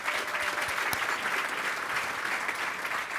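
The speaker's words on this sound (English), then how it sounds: "Again, a round of applause" Applause fills the room at a Torrance State of the City address, a steady, even round of clapping from a large audience with a single sharper clap standing out near the start.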